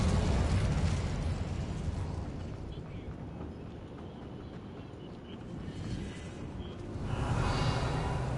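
An Incendio fire spell cast in Hogwarts Legacy, a loud, rushing roar of flame and crackling bursts that holds steady, dips slightly midway, then swells again near the end.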